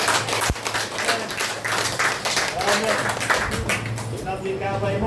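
Church congregation applauding, a dense wash of clapping hands that fills the room while voices talk loudly over and through it.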